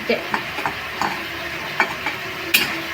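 Sesame seeds frying in a pan while being stirred, a steady close sizzle broken by light scraping strokes of the spoon at irregular intervals.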